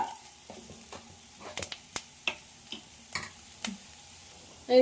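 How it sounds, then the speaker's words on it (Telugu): Bitter gourd fries in oil with no water added, a low background sizzle broken by a series of close clicks and scrapes from stirring, loudest toward the end. "నీళ్ళు కూడా ఏం వేసుకోకుండా ఫ్రై చేసుకుంటున్నాం"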